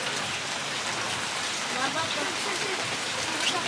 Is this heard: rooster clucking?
no